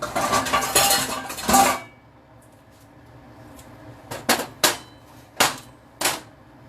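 A cutting board is set down and handled on a kitchen counter, several sharp hard knocks and clacks following a brief burst of rattling clatter, close and dry with quiet gaps between.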